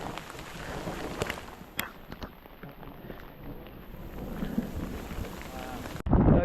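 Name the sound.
rain and hail during a thunderstorm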